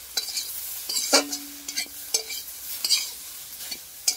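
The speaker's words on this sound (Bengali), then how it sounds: "দিয়ে বন্ধুরা আমি এইভাবে এটাকে নাড়তে থাকবো।" Okra and shrimp with chili powder are stirred in a pan, with a spatula scraping and clinking at an uneven pace over a light, faint sizzle.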